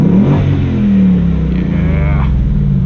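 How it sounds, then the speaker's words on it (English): A 2018 Ford Mustang GT with a V8 and manual gearbox revs from inside the cabin, a loud, steady low engine roar with rising and falling harmonic sweeps across the clip and no voices. "We can do some revs here just to piss people off."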